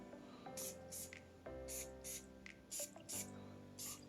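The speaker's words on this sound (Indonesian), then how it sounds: "Yuk, kita semprot di baju." Bellagio Prestige Black Shadow eau de parfum sprayed onto a shirt, about eight short, crisp hissing bursts in quick succession at close range, with faint handling noises between them.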